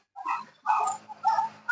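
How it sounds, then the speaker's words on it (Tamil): A puppy kept in a cage at home whimpers and yips three times in quick succession, close and fairly faint. "எங்க ஜூலி மணி நாய்க்குட்டி இருக்குங்க ஃப்ரெண்ட்ஸ்."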